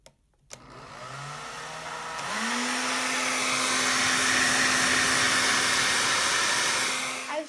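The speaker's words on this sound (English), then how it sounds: "you're going to want to put your blow dryer in a straight place." A hair dryer switches on and runs steadily, a loud continuous whooshing blow with a motor whine, set upright with a ping pong ball floating in its airflow.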